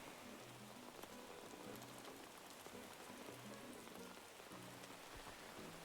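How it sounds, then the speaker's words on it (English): Rain falling on an island in Animal Crossing New Horizons, a steady soft hiss of drops pattering on surfaces, with faint tonal game music beneath and no talking. "Oh no, it's raining on this island as well!"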